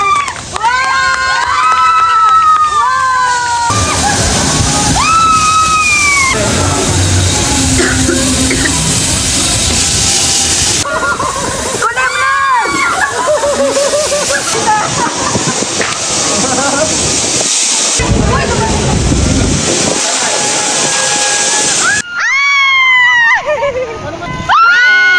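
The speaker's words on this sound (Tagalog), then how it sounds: "Dito nga lang yan sa resort kung saan may biggest wave pool dito sa Pilipinas." At a large resort wave pool, billed as the biggest in the Philippines, a crowd fills the air with continuous shouting, children's screams and cheering over sloshing water, with voices near and far throughout.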